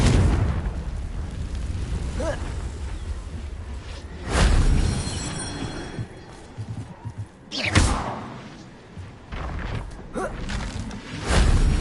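A Confringo blasting spell going off in Hogwarts Legacy: two heavy booming blasts a few seconds apart over a constant rumbling game ambience, loud and close, with lighter thuds after.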